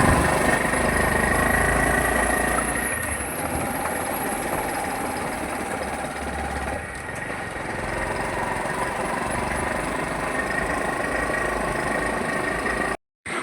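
Motorcycle engine while riding along a road, a steady mid-pitched droning hum with some rougher knocking texture, continuous and close before cutting off sharply at the end.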